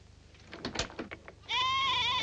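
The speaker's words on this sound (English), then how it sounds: "Oh, oh, it's the goat!" A goat bleats once, a loud drawn-out wavering cry close by, after a few soft knocks and shuffles in a quiet indoor scene.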